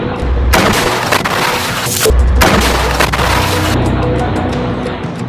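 Heavy booming blasts from Al-Yassin 105 rockets striking Israeli military vehicles and Merkava tanks on a street east of Rafah, several loud bursts in a dense, rumbling barrage with no talk.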